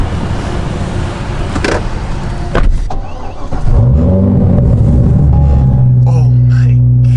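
Corvette C6 ZR1 with a loud exhaust, first a low idle rumble under rustling and talk, then a revving surge that settles into a heavy, steady droning note close by.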